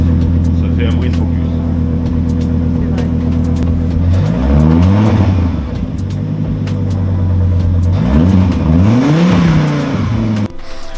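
Volvo car with a new exhaust line revving, a loud close engine drone climbing and falling through two sharp rev sweeps, with people chatting over the rumble.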